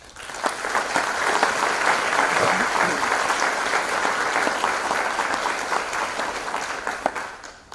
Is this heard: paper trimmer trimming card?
no